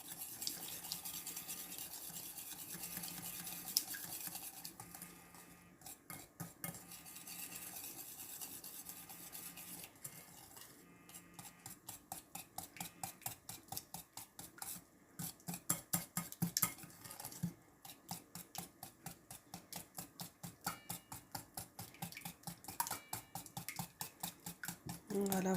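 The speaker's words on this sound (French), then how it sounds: "Là, on mélange nos 3 ingrédients, sucre, huile, œufs." Sugar, oil and eggs being mixed in a bowl for a pear and frangipane cake, with a steady, rapid scraping and tapping of a whisk or spoon against the bowl that grows into a fast, regular rhythm.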